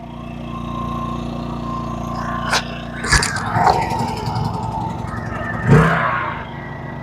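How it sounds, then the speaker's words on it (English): A Yamaha inverter generator runs with a steady, even engine drone, broken by a few brief louder knocks and bumps partway through. "Yamaha running."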